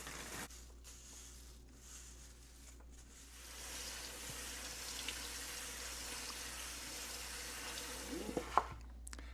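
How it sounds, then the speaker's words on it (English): Small red beans are rinsed under a running kitchen tap, a faint steady hiss of water with soft splashing and a few light clinks near the end. "Let's start by getting these small red beans cleaned up and check for any stones."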